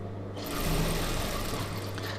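USHA sewing machine stitching a chudidhar neck, a steady, fairly loud motor whir with rapid needle chatter starting just after the beginning and running alone throughout.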